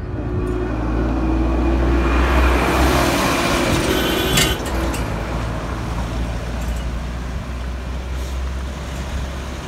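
Heavy road traffic in India's Spiti Valley, with cars, buses and trucks rumbling steadily past cyclists, loud and continuous, with a louder close pass midway and an air-brake hiss.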